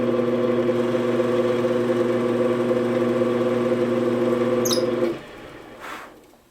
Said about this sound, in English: We're going to drill a 1/4 inch diameter stopped hole about 1/8 of an inch deep.